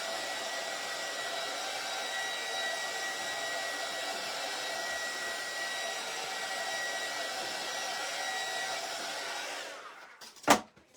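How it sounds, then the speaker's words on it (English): A heat gun blows with a steady, droning whoosh for about ten seconds, then cuts off with a sharp click near the end. "but my heat gun gets so warm"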